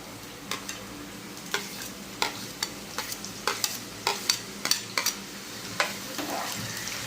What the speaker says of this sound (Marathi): कांदा छान फ्राय करून घ्यायचा